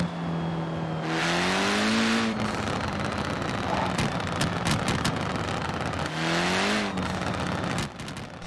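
Bugatti engine in Forza Horizon 4 revving loudly and dropping in pitch twice, with crackling exhaust pops and bursts between the sweeps, no talk.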